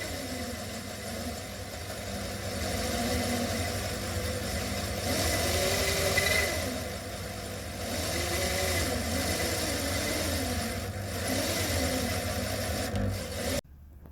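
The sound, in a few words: drilling Winchester 1892 rifle barrel from chamber end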